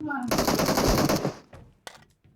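Rapid automatic gunfire from PUBG Mobile rattles loudly for about a second, followed by a couple of sharper isolated shots and faint background game noise.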